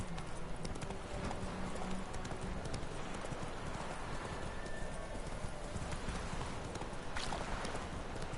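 Galloping horse hooves in Witcher 3 pound in a steady, continuous clip-clop rhythm close by, with a faint whinny near the end and no talking over them.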